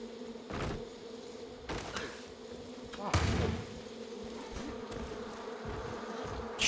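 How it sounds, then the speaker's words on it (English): A swarm of bees buzzing and attacking a player in the video game Far Cry 5, a droning hum with rising swells under game sounds and brief bursts of noise. "Getting attacked by bees here."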